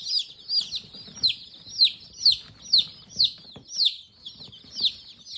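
Baby chicks from McMurray Hatchery peep repeatedly in a steady, rhythmic series of bright, close cheeps with faint rustling beneath.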